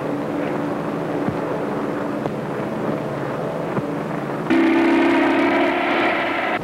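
In an old John Wayne film, an airplane flies low over trains, its engine a rough, continuous drone with a crackly old soundtrack. The roar swells louder and brighter in the second half.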